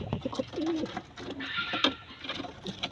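Pigeons coo close by in soft, throaty, rolling bursts, several overlapping calls repeating over a few seconds with no talking.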